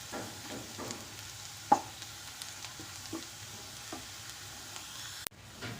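Onions stirred and fried in a pan until brown, a soft continuous sizzle broken by occasional spoon scrapes and knocks against the pan, close by, with no talking.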